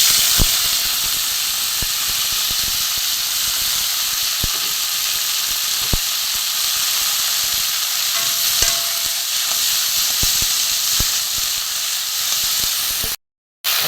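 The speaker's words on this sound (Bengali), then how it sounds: "অল্প একটু তেল দেবো এখানে যুক্ত ফুলগুলো ধুয়ে আমি ছাড়িয়ে রেখে দিয়েছি এটা আমি ভেজে নেব" Flowers fry in a little oil in a pan with a loud, even hiss, scattered clicks and pops throughout, and a brief dropout to silence near the end.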